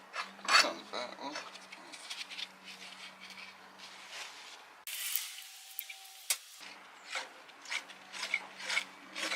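A worn, noisy belt tensioner pulley on a Corvette serpentine belt retrofit, turning with a rough mechanical rasping and grinding, close and steady, with a brief gap partway through.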